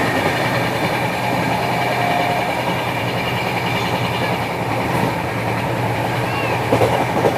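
A Secunderabad–Nizamuddin Duronto Express train runs at speed past Sirpur Kagaznagar, a loud steady rumble of wheels and carriages with faint clickety-clack throughout.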